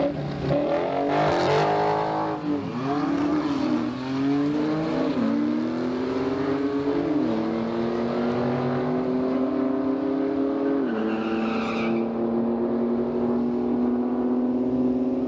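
A 2016 Dodge Challenger SRT with a manual clutch launches hard down a quarter-mile drag strip at Orlando Speedworld, its loud engine note climbing through several gear changes with sharp dips between shifts, heard close and without talk.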